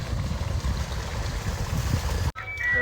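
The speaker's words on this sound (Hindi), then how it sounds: "ये चल पड़ा जी इस खाल में पानी," Irrigation water from a pumped supply pours steadily into an earthen garden channel, a continuous low rushing close by that cuts off abruptly near the end, followed by brief faint voices.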